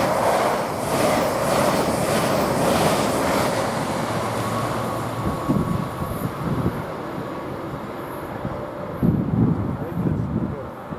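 An LNER train runs through Grantham railway station with a steady, broad rumble that eases off, then soft thumps of wheels over rail joints follow.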